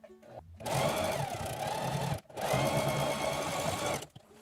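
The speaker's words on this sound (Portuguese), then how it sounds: "Aqui na máquina, agora, a gente vai passar aqui um pesponto, que é o ponto bem na pontinha." Sewing machine running steadily as it topstitches along the edge of a folded fabric seam, two long close bursts of whirring stitching separated by a brief pause.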